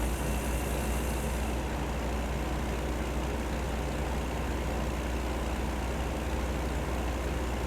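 A Kenworth truck drives through Los Angeles in American Truck Simulator, its engine a steady low drone with continuous road rumble, and a brief high hiss near the start.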